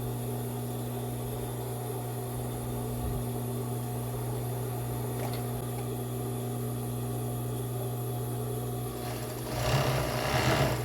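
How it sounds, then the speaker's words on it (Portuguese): A sewing machine stitching lace and back pieces of a cropped bra, running in a steady, close mechanical hum throughout that grows louder and busier in the final second. "Aí aqui você pode começar a costurar."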